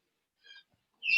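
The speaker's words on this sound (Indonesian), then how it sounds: "Ada suara burung keras banget itu punya Pak Peter apa punya siapa Pak?" A loud bird calling in the background of an online meeting, two short high chirping bursts separated by silence, the second one sharper and louder.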